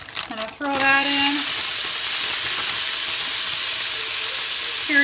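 Steamed cauliflower rice hits a hot pan with onions and starts frying loudly, a sudden burst into a steady close sizzle that continues unbroken.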